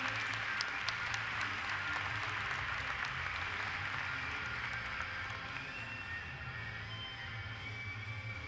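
Audience applause fills an equestrian arena after a Swiss rider's show jumping round at an international indoor event, a steady dense clapping that holds throughout and tapers slightly toward the end.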